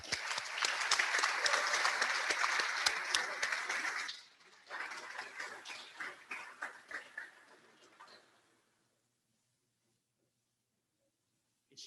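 A round of applause fills the room at a Rotary Club meeting, with dense clapping that thins into scattered claps and then fades to silence.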